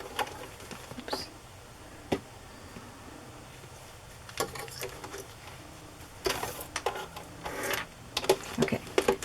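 A sewing machine stitches a fabric placemat in short, uneven bursts with pauses between them, running close and fairly quiet against a faint background hum.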